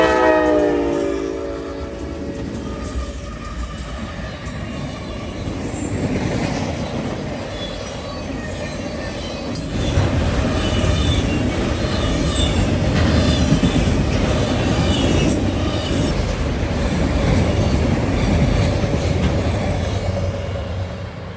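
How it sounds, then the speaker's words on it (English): A CSX westbound rack train, M205 from Worcester, Massachusetts to Louisville, passes close by, opening with a loud horn blast, then a long, steady roar of rolling railcars with squealing wheels. "we were able to get westbound rack train M205, Worcester, Massachusetts to Louisville, Kentucky"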